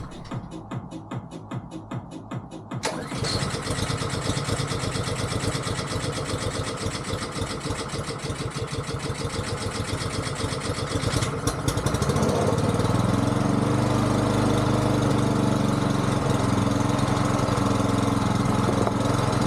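A repaired street sweeper engine runs close and loud, starting with a rapid knocking chatter and then settling into a dense, rough steady roar that grows heavier and deeper partway through.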